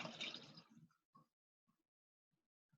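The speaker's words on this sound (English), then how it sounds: "Water, pour that in there." Water poured into a glass of lemon juice for homemade lemonade, a brief splashing pour that fades into a few faint drips, with no talking.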